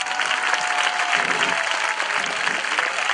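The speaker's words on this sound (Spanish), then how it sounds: "hasta que no aplaudéis no voy a parar" An outdoor audience at a street theatre cabaret in a park applauds steadily, a thick, even wash of clapping from many hands that holds at a constant loud level without pause.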